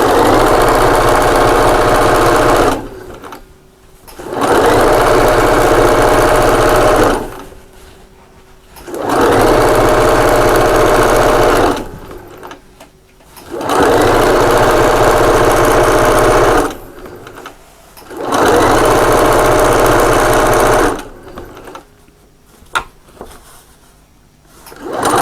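A sewing machine quilts a table runner, or bed throw, in four loud, close bursts of steady stitching, each a few seconds long, separated by short pauses with no one talking.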